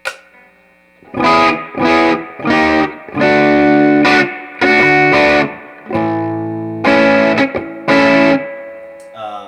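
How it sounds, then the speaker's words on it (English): Heavily distorted electric guitar chords through a 64 Super Reverb amp tone recreation ring out in separate bursts and sustained strums, gritty and saturated, with short silences between phrases. "so the signal is being distorted"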